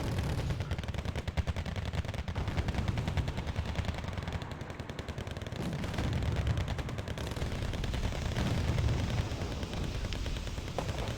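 Battle sounds from the video game Wargame: Red Dragon, with dense rapid gunfire, cannon booms and tank combat rolling continuously at a steady, loud level.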